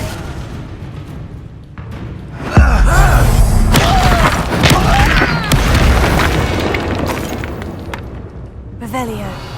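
Deep booming blast of the Confringo fire spell in Hogwarts Legacy, a loud low-heavy burst that rolls into sustained crackling and rumbling debris, with a voice speaking over it.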